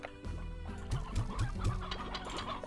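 Chickens in the video game Slime Rancher cluck in several short, close bursts, a lively cluster of fowl sounds with no talking.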